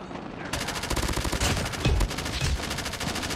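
Rapid sustained fire from a sentry gun in Call of Duty Mobile, a dense loud stream of shots starting abruptly after a short pause and continuing throughout.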